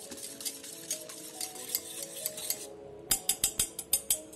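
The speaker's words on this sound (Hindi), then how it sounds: "इसे दोबारा से व्हिस्क करें।" Barley sattu drink whisked in a vessel, a rapid rhythmic train of liquid swishes and light metallic taps, close and steady, then a brief pause before sharper, louder strokes resume.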